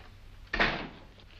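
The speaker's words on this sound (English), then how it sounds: "Go outside and close the door." A door is pushed shut with a single solid thud and brief rattle in a 1944 Sherlock Holmes film, a lone close bang over quiet room tone.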